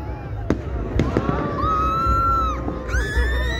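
Fireworks at the Runcorn/Widnes display, several sharp bangs followed by whistling, rising and falling shells overhead, with a crowd murmuring and a voice or two in the background.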